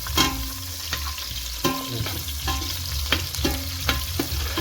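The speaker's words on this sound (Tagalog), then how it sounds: "nagisa uli ako ng sibuyas" Onion sautés in a pan, a constant frying sizzle broken by repeated scraping strokes of a spatula against the pan in an uneven rhythm, close and fairly loud, with no talking.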